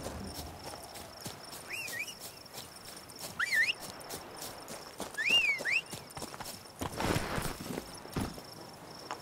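Horse hooves clop in The Witcher video game, soft and fairly faint against chirping crickets, with a few louder bursts of movement and no talking.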